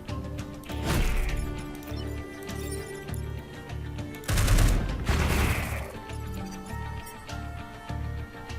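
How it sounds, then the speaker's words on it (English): Mortars fire in the video game Into the Breach as a pair of booming, crackling bursts over steady background game music. "if you fire the mortars now, he's gonna be dead"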